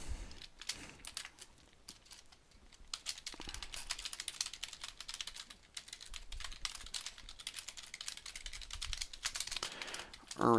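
Rapid computer keyboard typing clatters on at a desk, close and fairly steady with brief pauses, and a voice cuts in at the very end.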